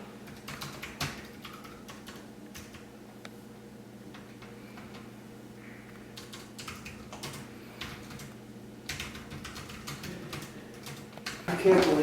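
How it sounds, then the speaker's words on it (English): Fingers tap steadily on a computer keyboard in an office, a close run of light clicking keystrokes with brief pauses, while people talk quietly in the background. "I'm not showing your email. I'm just showing you typing."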